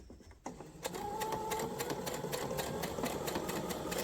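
A sewing machine stitches along the open edge of a scrunchie's fabric, starting with a short burst, then running in a steady, close, continuous whir with rapid mechanical ticking.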